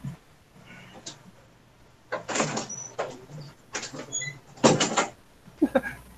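A house door opening and closing, several bursts of clattering and swishing movement spread across a few seconds at moderate volume, with faint background room noise between them.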